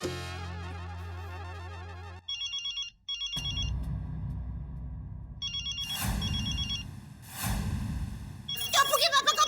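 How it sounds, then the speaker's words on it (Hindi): A telephone ringtone sounds in a home scene from the Taarak Mehta Ka Ooltah Chashmah sitcom, playing in two short repeated electronic bursts after opening background music, with other sound effects and music around it. "टप्पू के पापा का फोन है। फोन उठाओ"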